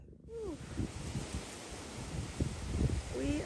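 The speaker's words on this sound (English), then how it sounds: "It's a blustery day." Steady roaring wind with 21-mile-an-hour gusts buffets the microphone throughout, with a few faint bird calls and light rustling underneath.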